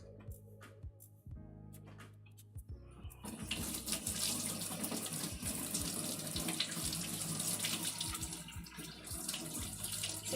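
Hot water runs from a kitchen tap to rinse a batter-covered whisk, first in brief splashy bursts, then a steady close rush filling the sink.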